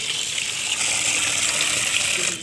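Water runs steadily from a tap on a rooftop, a constant hissing gush with no pause and no voices.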